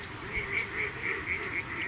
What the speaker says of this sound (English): just like a river of ducks pouring in